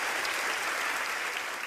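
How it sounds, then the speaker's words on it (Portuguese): A comedy show audience applauds steadily, a dense, even wash of clapping from a full room that carries on with no letup and no voices on top. "Vocês estão aplaudindo sem ter necessidade."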